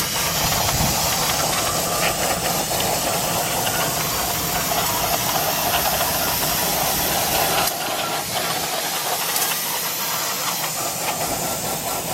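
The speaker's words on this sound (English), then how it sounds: "Use brake cleaner, wash out all the metal shavings and all the dirt, all the contaminants and whatnot," Aerosol brake cleaner hisses in a steady, loud spray as it washes metal shavings and dirt from the transmission pan of a GMC Yukon Denali 6.2 liter, continuing almost without pause, with no talking.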